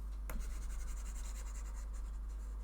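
Written working rubbed off a board by hand, rhythmic quick scrubbing strokes after a sharp initial knock, close and steady, over a low constant hum.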